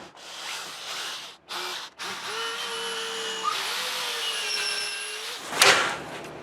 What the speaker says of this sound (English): We'll drill the truss rod access real quick for the bass neck.